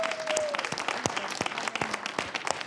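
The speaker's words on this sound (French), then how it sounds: "on les applaudit, s'il vous plaît" Studio audience applause on a French-language science broadcast, continuous moderate clapping with individual claps standing out, fairly close and without talk over it.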